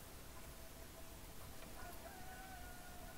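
A rooster crows faintly in the distance, its drawn-out call rising over a steady hiss of background noise with no one speaking.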